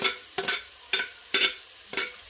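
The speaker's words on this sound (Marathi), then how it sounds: "मिश्रण आपल्याला छानपैकी फ्राय होऊ द्यायचं आहे मऊ होईपर्यंत" Chopped onion, tomato and green chillies frying in a pan, stirred in five regular scraping strokes over a soft sizzle; close and fairly loud, with no talking.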